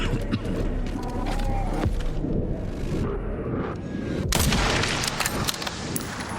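Gunshots in the survival horror game Resident Evil Requiem, sharp, booming reports scattered irregularly over a busy rumble of game noise and effects, a few landing close and loud.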